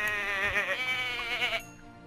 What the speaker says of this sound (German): Stimmt, Schafe.